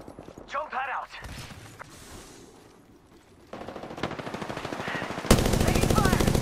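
Rapid automatic gunfire in the Apex Legends battle royale game, loud and close, building into sustained bursts toward the end, with a player's voice talking over the early part and scattered clatter between.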